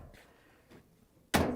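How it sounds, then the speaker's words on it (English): A Samsung dryer door swings shut with a single sharp, loud thud near the end, after a quiet stretch of faint handling noise. "close the door."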